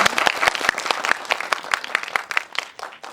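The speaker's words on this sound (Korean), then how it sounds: "박수 한번 일단 네, 부탁드릴게요" An audience claps throughout a film screening talk at a cinematheque hall, a dense, steady wash of many hands clapping, loud and close, with no speech over it.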